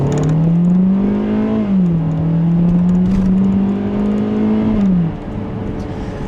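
A 2014 Kia Soul with a 2-liter engine and 6-speed automatic drones steadily at high revs while cruising, its pitch holding then dipping and climbing as the transmission shifts, loud and continuous with no talk.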